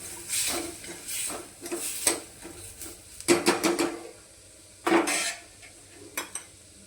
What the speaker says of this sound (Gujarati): હવે આપણે આ ગ્રેવીને સરસ ચડવા દેવાની છે થોડી